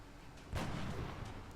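A sniper rifle shot in the strategy game XCOM Long War, a single loud broadband report booming out midway and trailing into a sustained rumbling decay over low game ambience.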